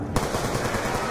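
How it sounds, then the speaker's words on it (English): Gunfire from a weapon in Black Ops 2 Zombies on the Die Rise map, one sharp onset followed by dense, continuous loud blasts and game noise with no break. "Hey, that's a shotgun."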